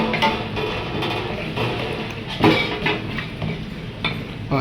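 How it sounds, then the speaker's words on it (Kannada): Three kilograms of chicken for biryani are mixed in a large pot, giving a continuous wet churning and scraping with occasional clinks of a spoon on metal, faint sizzling beneath, and no talk. "ಬಿರಿಯಾನಿಗೆ 3 kg ಚಿಕನ್ ಕೂಡ ಹಾಕ್ಕೊಳ್ತಾ ಇದ್ದೀವಿ. ಕ್ಲೀನಾಗಿ ಮಿಕ್ಸ್ ಮಾಡ್ಕೋಬೇಕಾಗುತ್ತೆ."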